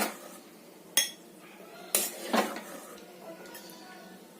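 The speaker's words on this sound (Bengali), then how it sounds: "একটা প্লেটে তুলে দেখিয়ে দিচ্ছি" A few sharp clinks of a serving spoon against a plate as egg curry is dished out, three separate knocks spaced about a second apart over a quiet background.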